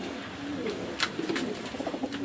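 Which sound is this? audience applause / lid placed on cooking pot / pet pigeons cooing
pet pigeons cooing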